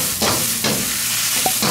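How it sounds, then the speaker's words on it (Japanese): Cabbage and green peppers hit a hot wok with scallions for twice-cooked pork, giving a steady close sizzle with several scraping stir strokes, no talking. "で、さっきの火を通したキャベツとピーマンを入れる。"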